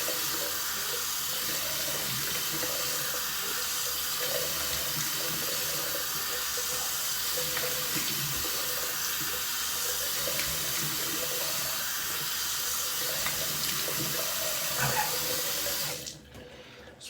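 Water runs steadily from a tap into a bathroom sink for splashing the face before a shave, a continuous close hiss and splash that stops abruptly near the end.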